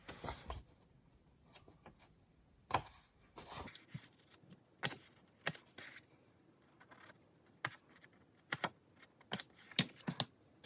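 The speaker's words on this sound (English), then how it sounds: "I'm going to cut slits into this paper." Blade cutting slits into hole-punched cardstock, heard as a series of short, sharp, close clicks and snips with quiet pauses between them.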